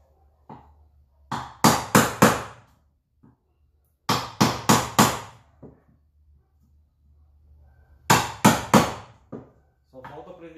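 A handmade wooden mallet is tested by striking, with three quick clusters of three or four sharp, loud wooden knocks separated by short pauses and a few softer taps.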